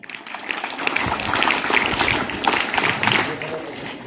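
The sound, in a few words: applause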